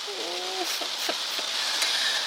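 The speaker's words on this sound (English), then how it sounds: "it's very hard to sleep in my car when it's raining" Rain falls on a car in a steady, close hiss, with a few brief squeaky tones rising above it.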